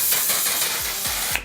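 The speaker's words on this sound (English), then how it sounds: "I don't know if I like the setting sprays in an aerosol can." Several short bursts of aerosol makeup setting spray hiss from a can held close, each one broad and airy, ending in a brief sharper puff before silence.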